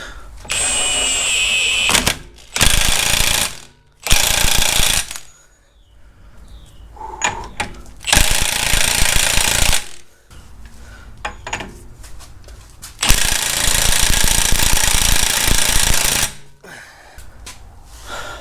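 A power tool tightens the axle shaft nut on a 2003–2009 Mercedes CLK W209 during a differential replacement, sounding in several loud, close bursts of rattling whir separated by short pauses and metallic clinks.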